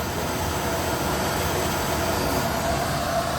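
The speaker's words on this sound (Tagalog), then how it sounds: "Gumagana yung blower natin dito" A Merrychef oven's cooling blower runs steadily with its door lowered slightly, a constant broadband whoosh with no pauses or voices.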